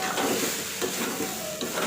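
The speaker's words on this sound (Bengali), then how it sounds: "হলদি দিলাম, হলদি দেওয়ার পরে একটু মিক্স করে নিব।" Poha tossed with salt and turmeric in a hot pan, a steady close sizzling hiss with soft scraping strokes of a spatula stirring through the flattened rice.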